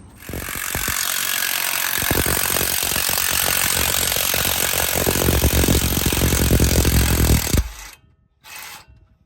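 An impact wrench removing a bolt during a front wheel bearing job on a 2006 Dodge Dakota 4.7 4WD, with one loud sustained rattling hammer burst that stops abruptly, then a short final blip.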